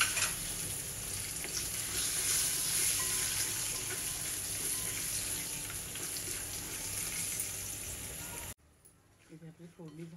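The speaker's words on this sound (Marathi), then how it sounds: "इथे आपली फोडणी झाली आहे बघा." Cashews, peanuts and green chillies sizzle and crackle in hot oil for a Marathi-style tempering, a dense close frying hiss that stops abruptly near the end, followed by someone speaking.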